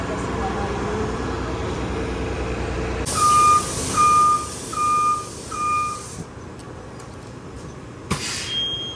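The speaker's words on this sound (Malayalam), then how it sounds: "ഈ 2 നമ്പർ ബസ്സാണ് ഇവിടുത്തെ ഏറ്റവും ലേറ്റ് ആയിട്ട് ബസ്." A number 2 bus pulls up at a stop, sounding four evenly spaced reversing-style beeps over engine and road noise, followed by a sharp hiss of air brakes.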